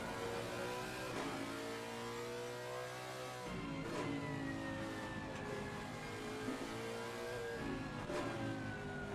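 Porsche GT3 race car engine in Assetto Corsa Competizione at Zandvoort, steady high-revving drone with gear shifts and a climbing pitch, fairly faint and continuous without speech.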